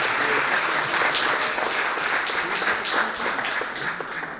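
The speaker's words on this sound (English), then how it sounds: "how about a big round of applause for Jim Runge" A studio audience at a Q&A breaks into sustained applause for guest Jim Runge, a dense, even wash of many hands clapping that holds steady throughout with no voices on top.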